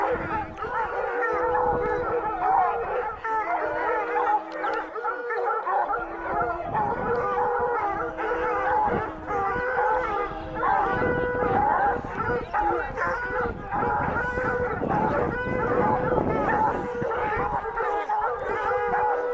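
Bluetick coonhounds howl and bay during a hound race, several long drawn-out howls overlapping with yips and barks, fairly close and loud, with people talking now and then among the dogs.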